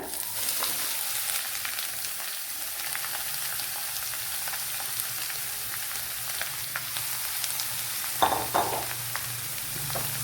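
Onion and curry leaves fry in oil, a steady close sizzle running throughout with a brief louder crackle near the end as more onion goes in; no talking.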